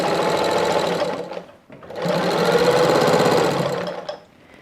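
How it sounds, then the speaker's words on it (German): Patchwork quilt binding being stitched on a sewing machine: a loud, close, fast whirring run stops briefly, then starts again and continues steadily before winding down. "Wenn alles richtig liegt, nähen wir weiter."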